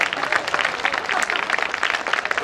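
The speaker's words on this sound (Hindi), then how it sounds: "मेरे लिए एक बार पहले से आप ताली बजा दें जोरदार" An audience at a talk on preparing for the RAS exam applauds loudly on request, with steady dense clapping filling the whole stretch at close, even volume.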